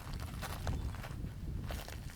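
Several soft footsteps crunch at a steady walking pace, fairly close, over a low rumbling background.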